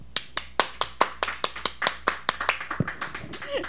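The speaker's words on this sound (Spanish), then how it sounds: "Déjenme aplaudirle." One person near the microphone claps for a pianist at a bohemian music gathering. The claps are sharp and evenly spaced and pick up speed slightly toward the end, with faint voices in the background.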